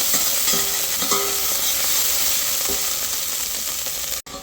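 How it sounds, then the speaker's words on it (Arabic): Crushed garlic, coriander and onion frying in a spoonful of country ghee, a dense continuous sizzle close up with a few faint clinks from stirring. "ونحط فيه معلقه سمنه فلاحي ونحمر التقليه"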